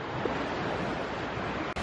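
Rough lake water washing against a sandy shore, a dense, steady rush of waves mixed with wind buffeting the microphone, with no voices.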